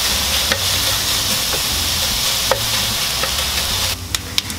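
Pork belly fries in a pan over moderate heat, its fat rendering. A steady, close hiss and sizzle runs throughout, broken by a few faint clicks and taps of utensils, and no one speaks.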